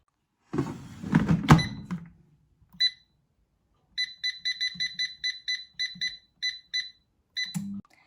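An air fryer finishing a mini pizza at 180 degrees Celsius, with a clatter and rustle of handling followed by a rapid series of bright electronic beeps, near and clear, with no talking.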